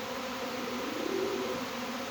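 Honey bees from an early-season swarm drone in a low, steady buzz, a continuous hum that swells slightly midway with no voices.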